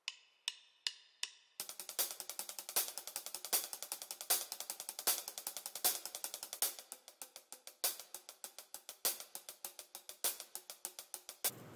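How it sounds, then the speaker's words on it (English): Hi-hats open a song on drums: a few sparse ticks, then a steady, fast run of sixteenth-note hits with regular accents, crisp and close but fairly quiet, with no voices. "the first thing is the intro hi-hats, okay, which sound like this"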